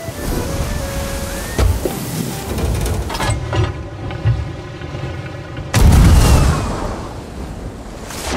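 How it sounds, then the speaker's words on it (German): Ship cannon fire at sea in Sea of Thieves: deep booming blasts over continuous ocean wash and hull noise, with a heavy close boom near the end, no talk. "Oh, hast aber nicht so hoch geschossen."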